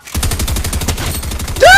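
Video game gunfire rattles out as a rapid, evenly spaced machine-gun burst, loud and close, ending in a sharp whine.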